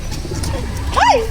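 A pigeon at a crocodile park gives a single rising-and-falling coo near the end, close and fairly clear over a low background rumble and faint voices.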